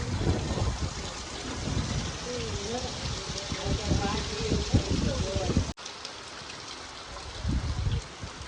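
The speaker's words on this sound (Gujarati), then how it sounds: "ધોધમાર વરસાદ આવે છે" Heavy rain pours steadily over a farm with a constant dense hiss, while a person talks over it for most of the stretch.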